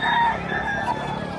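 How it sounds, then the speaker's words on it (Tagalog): Fighting roosters at a pet market give a short crow, a drawn-out tonal call over a busy background of market noise and faint voices. "Ito yung mga manok, oh. Panabong na manok"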